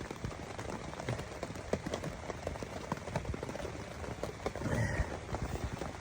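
Steady rain falling outside, a dense continuous patter with scattered sharper drips, even and moderately loud throughout without speech.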